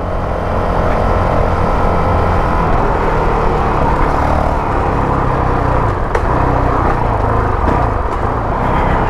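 A Honda CRF450L motorcycle fitted with a power-up kit rides through sand at constant throttle, its engine a loud, steady drone mixed with wind and rushing noise, close and unbroken throughout.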